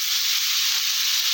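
Water poured into a hot pan of ground ginger, cumin and chili paste gives a loud, steady sizzling hiss, close and uninterrupted throughout.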